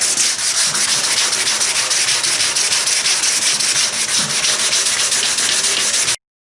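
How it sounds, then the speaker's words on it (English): A wooden kayak is wet sanded by hand up to 220 grit, making a loud, close, continuous rasp of rapid rubbing strokes that stops abruptly at the end. "So I'm going to sand right up to 220 wet, get all the scratches out."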